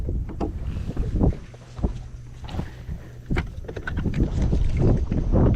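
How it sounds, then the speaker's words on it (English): Wind buffeting a microphone on a boat out on a lake while bass fishing, irregular gusty rumbles and thumps rising and falling throughout, fairly close and moderately loud, with no speech. "This wind's blowing, so it's going to make it a little bit difficult."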